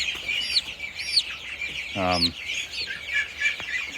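Small bantam chicks chirp repeatedly in high, bright peeps, and an adult bantam chicken gives one short, low cluck partway through, all heard close up.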